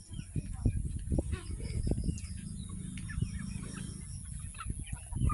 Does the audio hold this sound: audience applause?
no